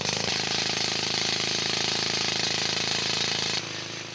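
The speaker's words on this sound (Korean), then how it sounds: "먼저 지층에서 떼어낼 대리석의 윗부분과 아랫부분을 90도 각도로 뚫어서 와이어를 넣을 구멍을 만드는 작업이 진행됐다." Rock drill boring holes into marble deep in an underground quarry in Makrana, India, a loud, steady rattling hammer that runs without pause for over three seconds, then drops slightly in level near the end.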